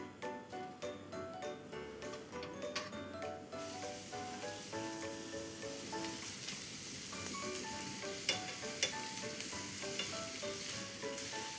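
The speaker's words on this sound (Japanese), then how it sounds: "ごま油温まったらえのき焼いていきます" Enoki mushrooms sizzle in hot sesame oil in a pan, a steady bright frying hiss that rises and holds after an opening stretch, close and fairly loud, with no talk over it.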